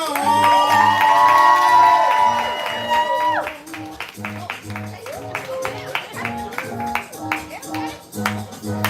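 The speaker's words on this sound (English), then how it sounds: "We clapping, we building energy. Make some noise for Ken" At a live poetry slam, the crowd's clapping and cheering ring out at first over bright tonal music; the noise then gives way to a rhythmic beat for the rest.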